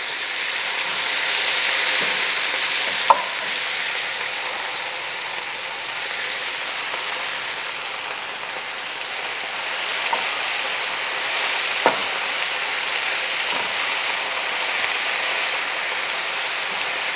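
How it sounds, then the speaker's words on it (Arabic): Baby spinach wilting in a hot pan gives a steady, soft sizzling hiss that runs throughout, broken by a few faint clicks of stirring. "It's going to take a minute or so for the spinach to wilt, and we will keep adding until we use up the whole thing."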